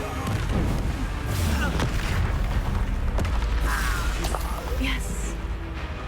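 Incendio fire spells are cast in Hogwarts Legacy amid a loud, busy fight, booming blasts and crackling bursts layered over constant combat noise, with a voice calling out during the action.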